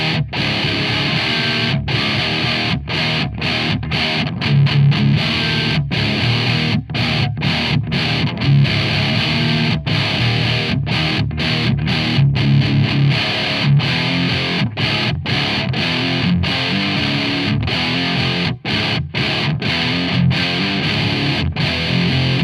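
An electric guitar plays through a vintage Boss DF-2 Super Feedbacker & Distortion pedal, a loud, dense, saturated tone held continuously with rhythmic chord chops and brief gaps.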